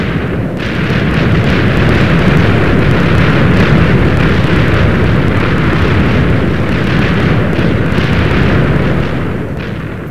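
TNT blocks exploding in Minecraft produce a loud, dense, continuous roar of overlapping blasts that rumbles steadily for about ten seconds before easing slightly at the end, with no voices.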